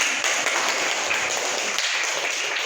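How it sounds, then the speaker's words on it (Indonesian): Classroom applause for a student, a steady wash of many hands clapping together, loud and close, lasting throughout. "Tepuk tangan buat Freya"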